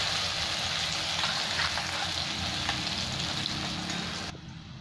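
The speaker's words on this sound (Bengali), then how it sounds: "এবার পেঁয়াজের বেরেস্তা করে নিচ্ছি" Sliced onions frying in hot oil in a kadai make a dense, continuous sizzle that is loud and close. It stays steady until it cuts off abruptly near the end. No one speaks.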